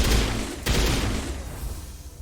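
Video game firefight in a Mass Effect style sci-fi shooter, a burst of dense gunfire with a sharp crack and boom, then rattling fire fading over a couple of seconds.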